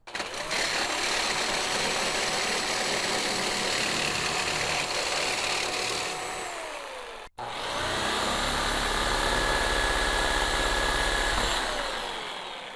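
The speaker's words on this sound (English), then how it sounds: "let's swap the blade out and cut some metal" A reciprocating saw cutting metal, a loud continuous buzzing drone that runs for about six seconds, stops briefly, then starts again and keeps going, close up and with no voices.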